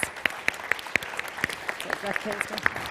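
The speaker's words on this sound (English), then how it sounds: "If you give them a warm round of applause." A small audience at a party conference panel session claps for the speakers, distinct individual claps in a loose rhythm, moderately close, with murmured voices underneath.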